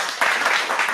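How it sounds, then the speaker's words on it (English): A short burst of applause from a podcast audience, a dense wash of clapping lasting about a second. "Let's do a round of applause because that was amazing"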